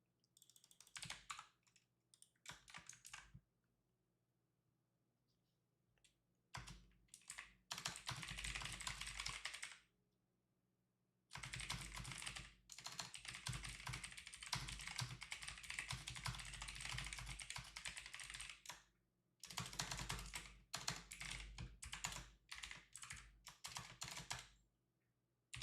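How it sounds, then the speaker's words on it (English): Steady bursts of computer keyboard typing, quick clattering keystrokes in several long runs separated by short pauses, close and fairly loud with no talking. "I'm typing something up real quick."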